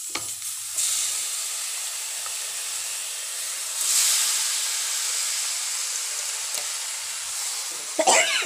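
Chicken pieces frying in a pan for Kerala-style pepper chicken, a steady close sizzle and hiss with occasional stirring scrapes, moderately loud throughout with no talk.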